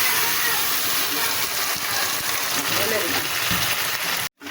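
Boiled lentils and banana stem are poured into a pan of fried ingredients, making a loud, continuous rushing and splashing wash that cuts off abruptly near the end.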